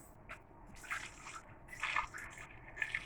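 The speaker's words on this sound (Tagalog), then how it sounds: "lagyan natin ng mainit na tubig para mabilis kumulo" Hot water poured into a cooking pot to boil yellow corn, heard as faint, uneven splashing and trickling bursts with no talking.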